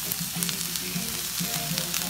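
Cabbage, mushrooms and onions sizzling in a hot pan, a steady close crackle with faint stirring, no voices.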